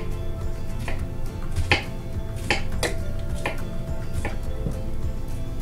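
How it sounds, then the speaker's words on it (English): A knife chops vegetables on a board in a home kitchen, a handful of crisp, uneven knocks and taps close by over a low steady background hum, with no talking. "all the chopping noises you hear"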